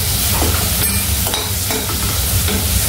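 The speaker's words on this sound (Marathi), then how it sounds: "कांदा शिजतोय" Chopped onion with turmeric fries loudly in a pan, with a dense, constant sizzle and irregular scraping strokes from stirring running through it.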